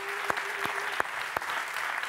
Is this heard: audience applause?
yes